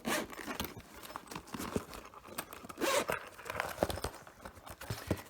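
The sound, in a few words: zipper on a carrying case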